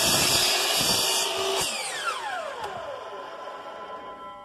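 A handheld power tool cuts through material with a scoring pass from the top and then a cut downward, loud and whining at first before winding down with a falling pitch as the blade slows.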